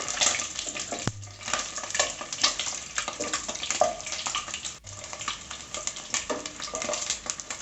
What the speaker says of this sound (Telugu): గుడ్డికి చెమ్ము ఉంటుంది కాబట్టి అలా పగులుతూ ఉంటాయి